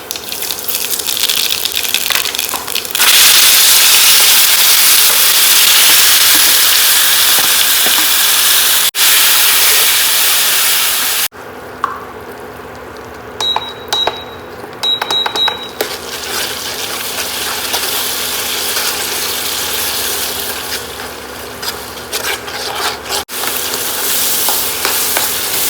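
Food sizzles loudly in hot oil during a village-style tempering, a steady broadband frying hiss that drops after a brief break to a softer, uneven sizzle with light stirring clinks, no voices.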